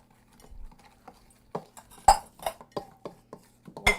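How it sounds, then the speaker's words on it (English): A spoon clinks and scrapes against a bowl while cookie dough for chocolate chip orange cookies is mixed, producing irregular close knocks and clinks over about four seconds with no talking. "We're just gonna mix."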